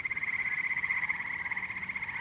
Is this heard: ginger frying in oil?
no